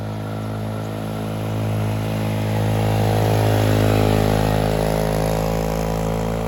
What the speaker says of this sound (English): Yes, the motor climbs the mountain.